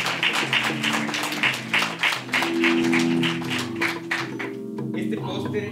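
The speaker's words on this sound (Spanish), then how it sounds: "les voy a pedir un aplauso porque este póster ha costado mucho trabajo" At a presentation of an anti-trafficking communication strategy, an audience applauds a poster in a sustained patter of claps that thins out near the end, with voices speaking over it.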